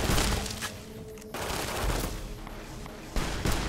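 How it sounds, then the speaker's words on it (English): Nail gun firing in the video game Fallout: New Vegas, rapid bursts of sharp repeated shots with brief pauses between volleys, loud and close amid game noise. "My nail gun does pretty good work"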